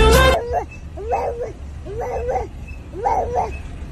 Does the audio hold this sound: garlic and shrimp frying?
no